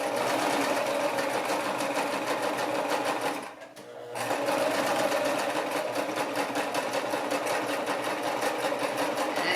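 A sewing machine runs steadily, stitching and backstitching a seam on a fabric baby hat, with a fast even needle rhythm, a brief pause near the middle, then continuous stitching again.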